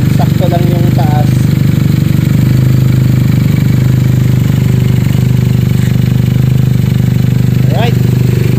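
A Benelli 302S motorcycle fitted with an Akrapovic exhaust and a twisted mid pipe idles close by with a loud, steady, throbbing burble, and speech is faintly audible over it.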